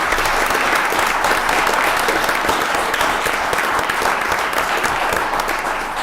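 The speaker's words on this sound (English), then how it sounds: "let's give them applause" Applause at a board of education meeting, a steady wash of many hands clapping that holds evenly for about six seconds in a large room.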